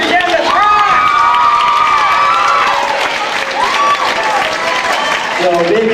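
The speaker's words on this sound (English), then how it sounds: "let's give him a big round of applause too" Loud crowd applause at a Las Vegas birthday party show, with cheering and shouting voices over the clapping from start to finish.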